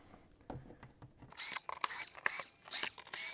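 A power driver whirs in short bursts while undoing screws on the back cover of an R53 Mini Cooper, with quiet clicks and taps before the louder, closely spaced bursts of the tool.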